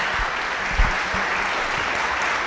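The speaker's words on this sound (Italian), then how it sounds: "tutti gli interventi di Federico Faggin chiamano applauso" An audience at a talk event applauds in a dense, steady burst of clapping from many hands throughout. It stays at an even level, with one sharper clap standing out early.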